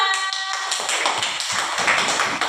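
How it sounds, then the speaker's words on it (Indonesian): Classroom applause for a student group during an Islamic religious education lesson on Ramadan fasting, a dense patter of many hands clapping at close range, steady throughout with no voices over it. "Berikan aplaus untuk kelompok 2"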